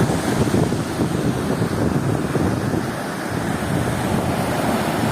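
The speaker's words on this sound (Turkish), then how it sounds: "dalgalar çok uzak noktalardan bile sert, hırçın bir şekilde sahile vuruyorlar" Loud, rough Black Sea surf crashing continuously onto the Karaburun shore, a stretch with no breakwaters, with heavy wind buffeting the microphone throughout.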